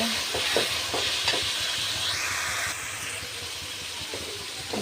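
Onions, garlic paste and spices fry in a pan for a beef head curry, a steady close sizzle broken by spoon scrapes and stirring knocks, with no talking.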